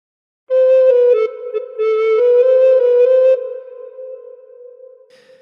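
A recorder plays a short phrase of the Battle Hymn of the Republic: a few clear, breathy sustained notes stepping gently in pitch, solo and close.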